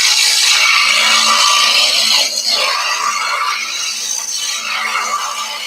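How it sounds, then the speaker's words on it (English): A wooden spatula handle spins on a wood lathe during basic spindle turning, giving a steady, close, broadband hiss and scrape of the tool cutting wood, continuous with slight dips in intensity. "So it's going to be a basic spindle turning."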